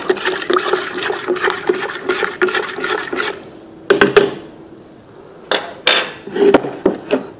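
Stirring 50 ml of EM1 concentrate into water inside a container, heard as close scraping and knocking strokes in irregular bursts, loud at first, then pausing and resuming with sharp clatters.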